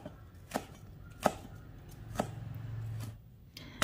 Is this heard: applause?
no